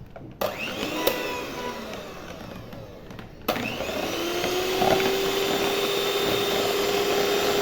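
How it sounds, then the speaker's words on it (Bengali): An electric hand beater whips two egg whites into foam for vanilla pancakes, a steady motor whine that starts, halts briefly, then restarts and runs on continuously, close and fairly loud with no talking. "এখন আমরা এটা এক বিটা দিয়ে ভালো করে বিট করে নেব"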